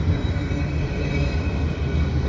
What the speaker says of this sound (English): there's a train down there